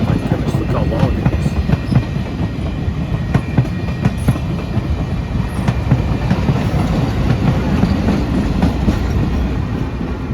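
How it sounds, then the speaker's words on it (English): A very long passenger train rolls past near West Branch State Park in Ravenna, Ohio, loud and continuous, with rhythmic clickety-clack of wheels over rail joints throughout and a voice briefly heard over it. "they must get a lot of tourists to ride on this train"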